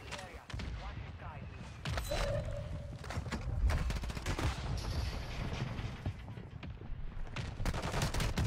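Gunfire in a video game, a few short bursts and scattered shots cutting through dense background noise, with voices talking over the action throughout.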